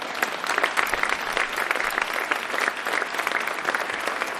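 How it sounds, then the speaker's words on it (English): Steady applause from the audience at the 2019 dedication ceremony for a university diving and aquatics center, dense even clapping sustained throughout with no talk over it. "We want to give those folks a round of applause."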